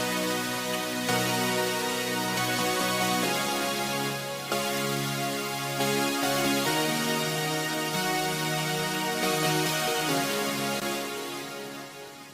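A lush synth pad patch, layered with a sine wave and a gentle release, plays sustained chords that shift every second or two. Each chord fades smoothly at the end.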